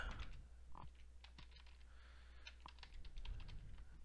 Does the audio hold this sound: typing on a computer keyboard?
yes